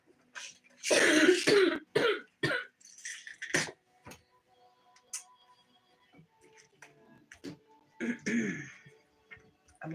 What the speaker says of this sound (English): I'm going to do my best not to cough because it sucks.